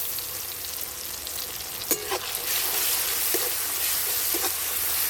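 Garlic paste sizzles in hot oil in a pan while a cauliflower and fish curry is being cooked, giving a steady broadband frying hiss with a few brief stirring clatters partway through.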